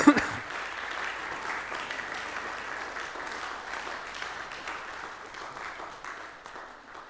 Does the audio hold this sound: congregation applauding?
yes